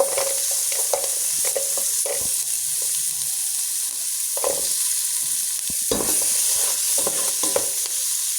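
Potatoes and onions fry together in a pan, a steady loud sizzle with a spatula stirring and scraping in uneven bursts throughout, close up and with no voices.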